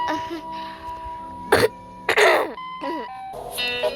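Two short, harsh coughs break through quiet background sounds, close to the microphone, with a tonal electronic hum continuing around them.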